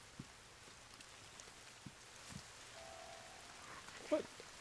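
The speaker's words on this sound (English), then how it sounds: "And now is it raining?" Rain falls in the video game The Forest as a faint, steady patter with scattered soft drops and light knocks under a quiet background.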